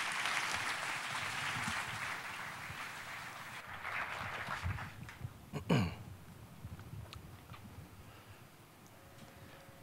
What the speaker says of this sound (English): Please clap it up, David.